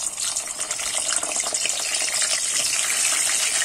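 Pointed gourd pieces sizzle steadily in hot mustard oil, a dense, even hiss of frying that runs throughout at moderate volume with no voices.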